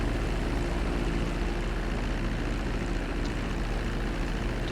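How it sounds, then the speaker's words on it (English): A piston-engine aircraft in GTA V FiveM, its engine giving a steady, loud, even drone that holds without break. "This one sounds like a bloody piston engine"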